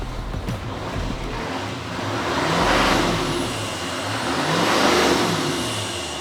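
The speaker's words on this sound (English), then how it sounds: "Beautiful, beautiful sound of a big old Duramax." A big Duramax diesel in a Silverado 2500HD pickup revs in two long, swelling surges, the roar building and fading over a continuous broad rumble, heard at moderate distance without talk.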